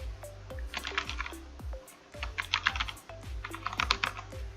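A username is typed on a computer keyboard in quick, close, crisp key clicks that come in several bursts with short pauses between them.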